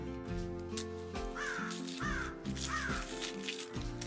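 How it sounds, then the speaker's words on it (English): An outdoor crow caws three or four times in a loose series, harsh and fairly close, over a steady low background hum with no talking. "Sounds like the crafty crow's visiting."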